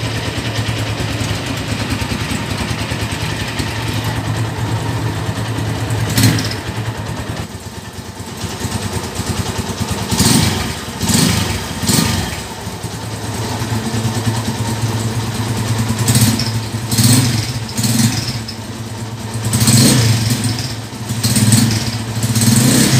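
Honda Tiger motorcycle engine idling steadily close by, a low rumbling drone with a few brief revs and louder bursts partway through, no talk over it.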